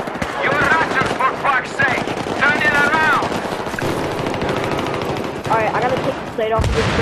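Automatic gunfire in the video game Battlefield 3, loud rapid bursts of shots repeating across the clip, mixed with game effects and a player's voice.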